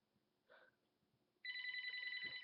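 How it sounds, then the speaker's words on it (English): A telephone bell bursts into loud, continuous ringing partway through after a faint earlier chirp, sounding close and alone. "The phone keeps ringing and I don't know why."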